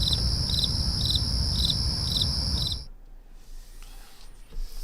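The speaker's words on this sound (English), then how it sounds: "Yes, that one gets crickets." Crickets chirp in a steady, pulsing rhythm, loud and close with a low rumble beneath, then cut off abruptly to near silence.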